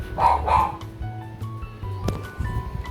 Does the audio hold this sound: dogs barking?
yes